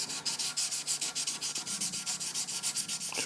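Frets on a Fender Jazz Bass are sanded with 2000 grit paper, producing close, rapid, evenly rhythmic back-and-forth scratchy strokes throughout.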